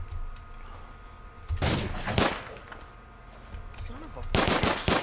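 Submachine gun fire in the video game Rust, shot at a building: a loud burst near the 1.6-second mark, another at 2.2 seconds, then a rapid closing burst, with quieter game ambience in between.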